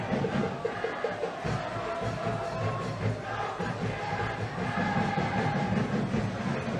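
Khon Kaen United football supporters roar from the stands of a Thai League 3 stadium, a dense, continuous crowd din of chanting and cheering at steady high volume throughout.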